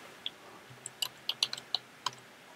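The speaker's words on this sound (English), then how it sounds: "I can just type in waterfalls" Quick scattered keystrokes on a computer keyboard, crisp separate clicks at close range, about nine presses in a short burst with brief pauses and no talking.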